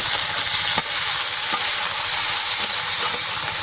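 Okra with salt and two green chilies frying in oil in a kadai gives a steady, close sizzle with a few sharp crackles and stirring scrapes. No one speaks.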